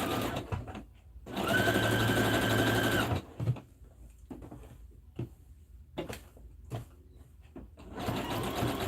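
A sewing machine zigzag-stitches around a heart appliqué on a sweatshirt, running in a steady close burst of about two seconds, then pausing for short clicks and handling noises before starting up again near the end.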